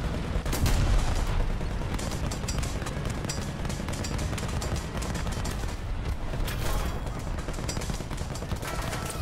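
Tank gunfire in War Thunder, a T14 heavy tank battle: dense, continuous booming and crackling shots under steady battlefield noise, with a heavier blast near the start and another burst later.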